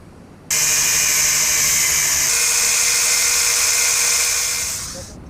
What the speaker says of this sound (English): now all I have to do is trim these bolts